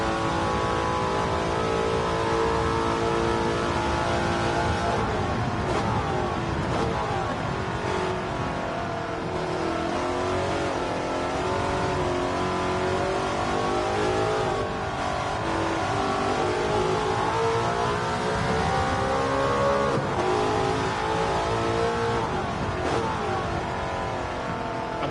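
A Ford Sierra Cosworth engine in Gran Turismo 7 revs steadily and loudly throughout, its pitch rising and falling with gear changes, an unbroken racing drone with no voices.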